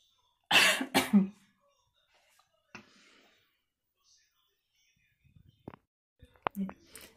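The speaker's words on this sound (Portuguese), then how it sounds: "tive que pausar o vídeo que me deu uma crise de tosse" A woman has a coughing fit, with a loud burst of several close coughs at the start, followed by scattered quieter coughs and throat sounds in an otherwise quiet room.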